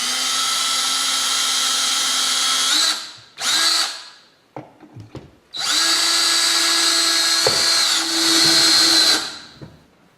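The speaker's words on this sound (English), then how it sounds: "Drill a couple of pilot holes." A power drill bores pilot holes into a wall, whining loudly and close up in a long burst, a short blip and a few stutters, then a second sustained run that winds down at the end.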